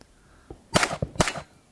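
Two sharp, loud pistol shots about half a second apart strike a steel spinner target on a shooting course, each with a brief metallic ring, preceded by a faint click.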